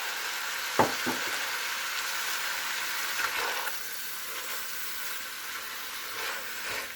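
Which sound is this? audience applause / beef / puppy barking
beef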